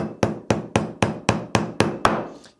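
Eight steady, close blows from a nylon-faced Thor hammer strike brass fittings on a leather trunk, each impact a crisp knock with a brief ring, the rhythm even and unhurried.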